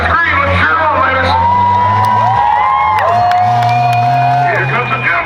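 A crowd cheers at a county fair rough truck race, with whoops and shouting over the steady low drone of truck engines; a revving engine rises and falls in pitch throughout.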